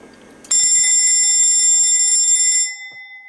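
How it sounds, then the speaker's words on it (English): Old telephone extension bell running from a transformer on 12 V DC, ringing loud and continuous up close for about two seconds before its metallic ring decays away. "I've now got the bell connected to the output of the transformer."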